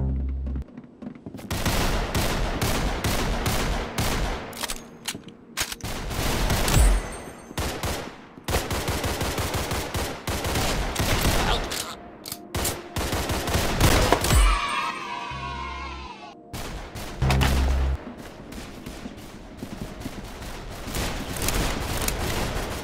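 Gunfire in the Roblox Arsenal video game crackles in loud, rapid bursts, automatic volleys and single shots overlapping almost continuously, with a few short pauses between salvos.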